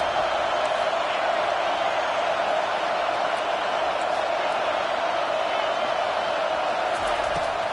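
A packed stadium crowd at a Miami versus FSU college football game roars in a continuous, loud, sustained wall of noise from start to finish, trying to rattle the offense on a third down.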